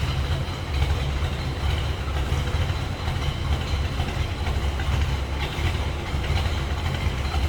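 A 1965 Chevrolet Impala convertible with a 327 V8 on full mufflers idles quietly after a cold start, a steady low rumble with an even, continuous pulse and no talk.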